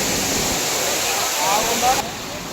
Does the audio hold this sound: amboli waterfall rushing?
yes